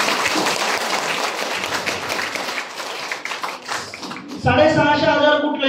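An audience claps for a product bottle at a sales gathering, a dense stretch of applause that thins out before a voice takes over near the end.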